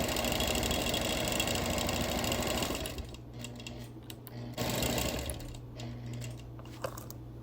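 A sewing machine runs steadily, quilting hand-pieced appliqué hexies, its fast close motor buzz and needle clatter continuous, easing briefly and resuming with short pauses and rhythmic stitching.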